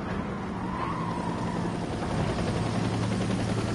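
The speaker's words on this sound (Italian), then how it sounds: "Quell'elicottero è su dal 1994, da quando ho fatto Gran Turismo sta pista." A helicopter hovers over a racetrack in the Gran Turismo 7 video game, a steady low droning rotor hum blended with car engine noise, continuous and moderately loud.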